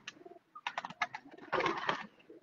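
Kel pigeons on a rooftop loft in Chiniot give soft, close coos and throaty murmurs in short bursts, with a fuller cooing phrase near the end and no talking.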